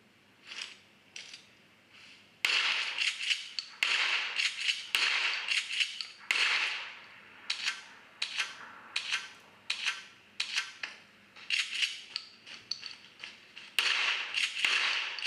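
Gunfire from PUBG mobile gameplay on an Oppo K1 phone plays as sharp synthetic shots, some in bursts and some single, with short gaps between volleys.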